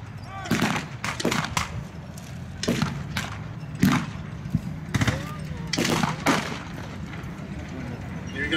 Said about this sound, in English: Now the Americans running forward into that shell crater, trying to get that machine gun going again.